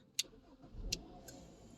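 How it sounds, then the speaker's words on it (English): A 2018 Kia Sportage cranks and starts once power reaches its fuse. A low engine rumble swells briefly and settles into a quiet idle, punctuated by a few crisp relay-like ticks, all fairly faint and close with no voices. "now we have a vehicle that is started"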